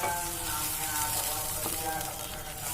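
Tomato paste frying with chopped onion pieces in a pan for a drumstick masala curry, a steady close sizzle with light stirring throughout and no talking.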